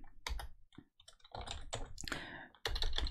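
Keys clacking on a computer keyboard while entering commands in Windows PowerShell on Windows Server 2022 Core, close and fairly loud, in irregular bursts with brief pauses between.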